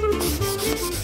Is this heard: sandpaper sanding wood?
yes